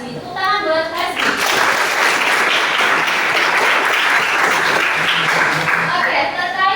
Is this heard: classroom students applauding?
yes